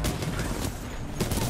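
Rapid submachine gun fire from an R-99 in the Titanfall 2 video game, a steady dense burst running the full length of the short moment and swelling again near the end, with some game noise mixed in.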